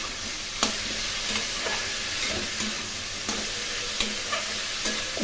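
Potatoes and cauliflower frying for a sabji curry, a steady close sizzle in the pan broken by repeated scraping knocks of a spoon stirring.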